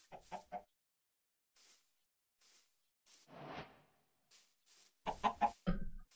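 Minecraft chickens cluck in short, quiet bursts, some alone and some in quick clusters, with gaps of silence between them and a brief swishing noise in the middle.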